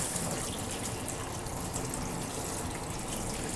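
Running water rinses soap off a vinyl Kanegon figure, a steady broadband gush and splash like a flowing tap that continues evenly throughout, with no talking.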